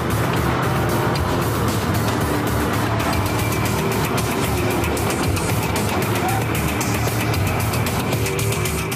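Gumpert Apollo sports car driven by a professional racer lapping a difficult 21 km race circuit, a loud, steady engine roar holding close and continuous throughout.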